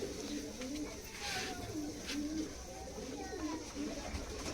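Giribaz pigeons coo in soft, repeated low warbling phrases, fairly close, with a faint background hiss and a few brief clicks.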